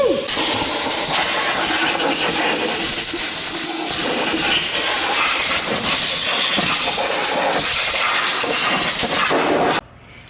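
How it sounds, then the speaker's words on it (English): Air compressor blowing dirt out of a Can-Am UTV clutch cover, primary and secondary clutches: a loud, steady rushing hiss of compressed air lasting nearly ten seconds before cutting off abruptly. "we got the clutch cover, the primary, the secondary all blown out with the air compressor"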